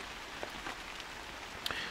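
Steady, faint rain falling outdoors, a soft even hiss with a few scattered drop ticks.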